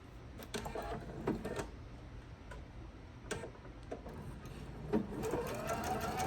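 A sewing machine stitches an Old Maid's Puzzle quilt block at stitch length 2.0 with a scant quarter-inch seam. It is a soft, steady mechanical whir with crisp ticking clicks, quiet and close, with no talking.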